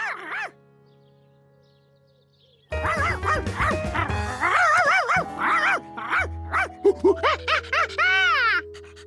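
Cartoon dog barks, yips and whimpers in rapid bursts, loud and close, after a faint squeal and a quiet pause, with music underneath.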